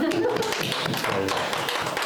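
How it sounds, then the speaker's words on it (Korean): Brief welcoming applause from a youth worship congregation greeting invited guests, a patter of claps and taps mixed with murmuring voices at moderate level. "우리 환영 박수 하겠습니다."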